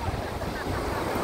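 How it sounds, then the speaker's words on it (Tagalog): Continuous wash of ocean surf on the beach at Dibba, a broad hiss with wind buffeting the microphone, steady and close throughout. "tabing dagat."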